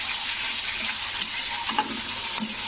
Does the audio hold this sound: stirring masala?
yes